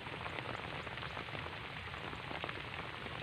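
Steady typhoon rain pours down on a farm field, a dense continuous hiss of drops hitting surfaces with no pauses.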